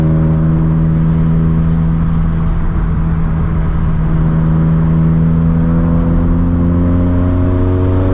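A broken-in project car engine revs up with turbo boost coming on instantly, a loud continuous close drone with steady harmonic tones that rise gently as it accelerates, no voices.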